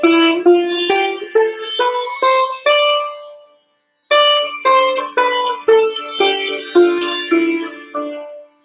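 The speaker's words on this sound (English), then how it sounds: "So what does this particular scale set Kafi sound like?" Kafi scale, a Dorian-like raga scale, played note by note on a plucked melodic instrument: a steady run of clear, ringing tones climbs, then after a short pause descends. The playing is close and moderately loud, with no voices.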